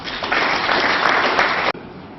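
A workshop audience applauds themselves in a burst of dense, loud clapping that holds steady for under two seconds, then cuts off abruptly into quiet room tone.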